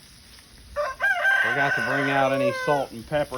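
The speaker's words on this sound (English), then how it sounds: "You hear the rooster crowing." A rooster crows loudly nearby, a long drawn-out call followed by shorter clucks, while someone speaks briefly just before it.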